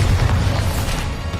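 A Bombarda blasting spell explodes in the wizarding video game Hogwarts Legacy, a loud, sustained low rumbling boom that fills the whole moment without any break.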